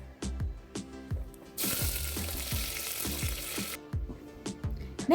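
Hot oil sizzles steadily while curry leaves crackle and spit, with a loud burst of hissing in the middle and sharp pops throughout, close up.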